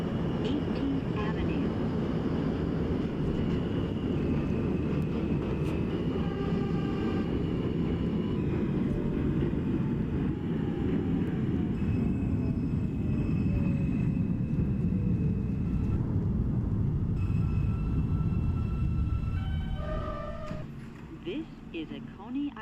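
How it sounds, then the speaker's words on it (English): A simulated N subway train bound for Coney Island rumbles steadily in the Openbve train simulator, with faint whining tones rising and falling as it moves. The rumble fades near the end, and a voice talks over it. "This is a Coney Island bound N train"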